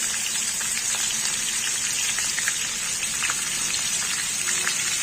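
Whole jilebi fish (tilapia) frying in a pan of oil, a dense, steady hiss and crackle like heavy rain, constant and close throughout with no talking.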